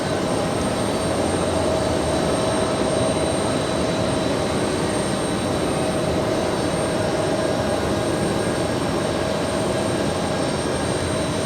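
A Russian Ilyushin Il-96 airliner on its landing approach makes a steady, loud jet roar that stays constant throughout, with no voices.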